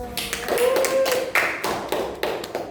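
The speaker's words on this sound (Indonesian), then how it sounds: "Beri tepuk tangan buat kelompok 1" Classroom of students clapping for a presenting group during a tenth-grade math lesson, a few scattered, uneven bursts of hand claps close by rather than a full ovation.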